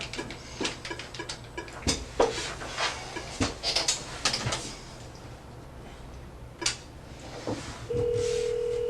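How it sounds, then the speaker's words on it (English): A telephone number is dialed by hand, with a string of short, sharp key clicks and taps, then a steady tone near the end. "Now just dial the number."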